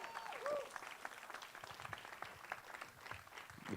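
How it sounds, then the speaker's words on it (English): Audience applause for Virginia K. Solomon at a democracy event: a dense, steady roar of many hands clapping for nearly four seconds, with a brief whistle-like tone near the start. "Virginia K. Solomon, give her a round of applause."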